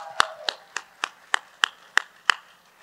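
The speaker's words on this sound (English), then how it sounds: "Let's give her a round of applause." At a real estate talk event in Miami, hands clap about eight times at a slow, even pace, crisp and close, with quiet room tone between the claps.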